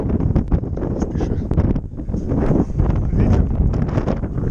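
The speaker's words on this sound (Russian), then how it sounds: "Ветер." Strong wind buffeting the microphone on a highway motorcycle ride in Kazakhstan, a loud, continuous rough rumble with gusty surges and no speech.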